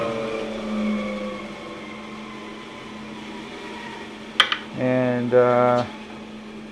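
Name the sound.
Powermatic PM1500 15 inch bandsaw running, then braking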